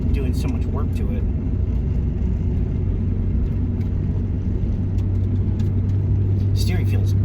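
A car fitted with a DIY four-wheel steering conversion drives along, its engine and road rumble a steady, loud drone from inside the cabin, while someone talks over it.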